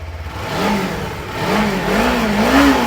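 A Kawasaki Inazuma 250 twin-cylinder motorcycle engine revs up close in a second-hand bike showroom in Maharashtra, its pitch climbing and dipping in repeated smooth surges with no one speaking.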